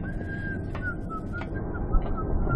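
Whistling in the video game Bioshock: a sustained, slightly wavering whistled tone holds steady through the clip over a dense, rumbling game backdrop, with a few brief noisy bursts breaking in.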